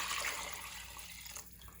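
Six cups of water pour into a pot for creamy mushroom soup, a hissing, splashing stream that is strongest at first, then thins and trails off into quieter trickles.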